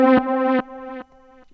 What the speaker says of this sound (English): the next texture I used is just this swell sound from one of the synths, which I just chopped out and then I'd reversed it